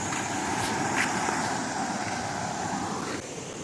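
A fast-flowing river in the Chinnar wildlife area of Kerala, heard from a bridge, rushes past in a continuous broadband roar. It stays steady and fairly close throughout, with no one speaking.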